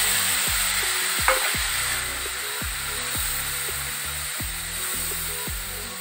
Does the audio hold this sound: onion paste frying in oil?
yes